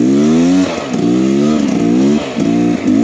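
Beta X Trainer 300 dirt bike engine riding through crusty old snow, loud and close, its note surging and dipping in repeated pulses as the throttle comes on and off.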